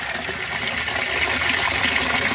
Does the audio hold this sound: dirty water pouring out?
yes